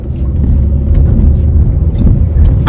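A car driving on a road gives a loud, steady low rumble of engine and tire noise from inside or close by, continuous for a few seconds with no talking.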